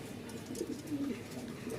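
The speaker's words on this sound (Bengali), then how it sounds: "তো এই হচ্ছে দুই জোড়া সোয়াচন্দন বলেন বা কমলা কালার কবুতর বলেন" Low, murmuring coos from orange-coloured pigeons of the Soyachandan type run steadily throughout, soft and close in a quiet coop.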